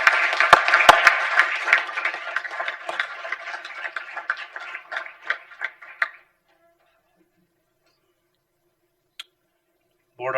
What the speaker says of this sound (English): Let's have another round of applause for Landon.